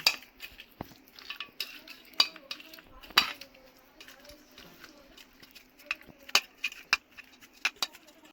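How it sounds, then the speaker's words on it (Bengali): Katla fish pieces are worked together with garlic paste, ginger paste and a little white oil in a bowl. Quiet, irregular clinks and taps of utensil against dish come and go over a soft background. "আর একটু সামান্য সাদা তেল ভালো করে আমি এটাকে মাখিয়ে নিচ্ছি।"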